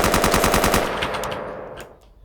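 Rapid automatic fire from an AUG rifle in the Minecraft Guns mod, a fast even burst of about a dozen loud shots lasting under a second, then a fading echo and a few faint clicks.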